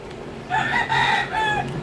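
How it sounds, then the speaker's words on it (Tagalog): A rooster crows once, a fairly close, clear cock-a-doodle-doo in several rising and falling segments over faint background hum. "nakikisabay talaga lagi yung manok"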